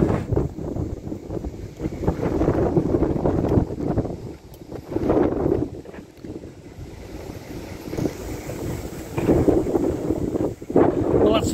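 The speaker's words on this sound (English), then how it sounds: "It's very, very windy, very, very cold" Strong, cold wind buffets the microphone while a boat is moored in an exposed spot, a loud continuous roar that swells and eases in gusts, with no talk.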